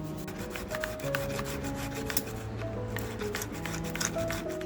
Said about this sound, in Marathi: टॅमॅटो असा छान किसून घेते